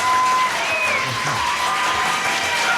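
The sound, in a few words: audience applause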